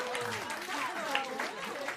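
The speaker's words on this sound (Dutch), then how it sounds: "U mag wel even klappen." Audience applause at a pub quiz event for an introduced guest: a steady spread of clapping from a moderate crowd, fairly quiet, with a voice speaking over it.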